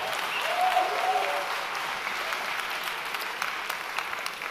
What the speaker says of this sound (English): Okay, you can applaud for that.